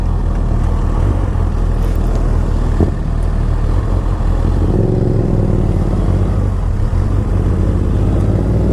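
Motorcycles being ridden on a road, a steady loud engine drone with low rumble throughout and a rising rev partway through, no voices.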